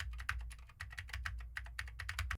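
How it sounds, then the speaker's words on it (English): Rapid, uneven clicking of a mechanical keyboard with Gateron blue switches, each keystroke a sharp, close tick in a steady flurry with no voices. "now I am typing on the sad W keys"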